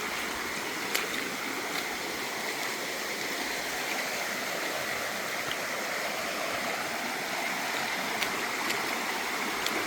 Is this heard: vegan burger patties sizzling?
no